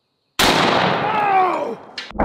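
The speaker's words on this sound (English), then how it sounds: "This is like the Doomslayer's shotgun" A 4 bore shotgun fires at a zombie target, a single loud, close blast that booms and decays over about a second, followed by brief thuds and clatter.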